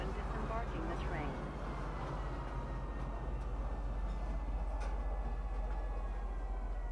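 A tram-like train in the Star Citizen game pulls into a station, a low steady rumble with faint metallic squeals and clicks, quiet and continuous under a voice speaking.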